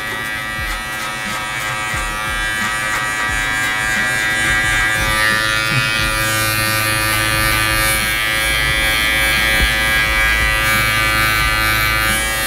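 A Ducati by Arzum electric grooming trimmer cuts through a beard, giving a steady, loud, close-up buzz with small shifts in pitch as the blades move through the hair.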